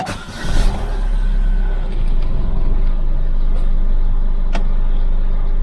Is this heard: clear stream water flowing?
no